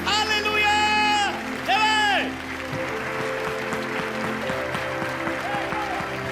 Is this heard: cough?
no